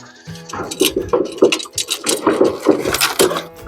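Several goats bleat in quick succession, close and loud, their wavering cries overlapping with some clattering in the background.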